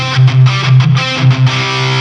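A crunchy distorted rhythm guitar riff runs through a Marshall JCM800 with a DSC cabinet simulation, loud and full-bodied, with short chugging accents pulsing over a held, saturated chord.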